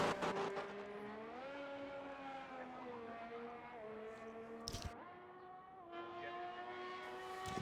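An Alfa Romeo race car in a racing video game at the Jeddah circuit hums with a steady, faint engine whine that climbs in pitch through several gear changes, with no talking.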